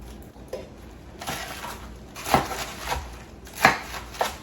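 A knife chops a head of romaine lettuce on a board in a home kitchen, with several crisp, sharp cuts spaced irregularly over a few seconds, close and moderately loud with no talk.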